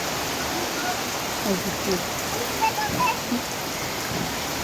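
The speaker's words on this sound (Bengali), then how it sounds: "ফাইজান বৃষ্টিতে ভিজতেছে দেখেন" Rain falls steadily in a broad, even hiss, with a few scattered drips and small knocks close by.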